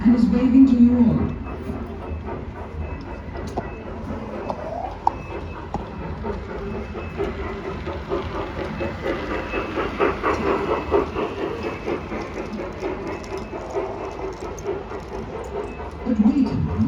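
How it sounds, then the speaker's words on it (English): A miniature model train, one thirty-second of standard size, runs through a museum layout with a continuous low rumble and rhythmic clicking, heard under a narrator's steady talk. "This train is just 32 times smaller than the standard size."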